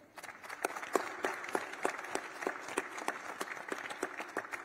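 Audience applause following a call to welcome the Democratic Republic of the Congo and its president, a steady patter of clapping with sharp individual claps standing out, moderately distant and continuous throughout.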